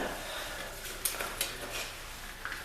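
A stick stirring HVLP high-build primer in its container, with soft scraping and a few light knocks against the sides, fairly faint and close, with no talk.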